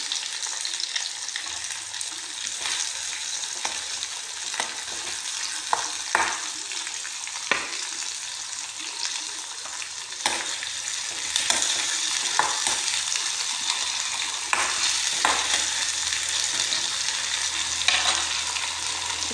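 Food with green chili frying in a pan, before cabbage goes in: a steady, close sizzle and crackle broken by scattered clicks and scrapes of stirring.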